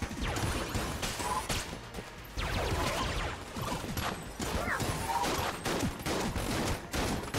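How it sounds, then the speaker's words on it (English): Flak shots from a heavy weapon in the Enter the Gungeon video game hit a wall and bounce off in dense, rapid bursts of cracking impacts and whooshes, loud and continuous with short gaps. "I love that sound effect of the flak shots hitting the wall at the same damn time and bouncing off."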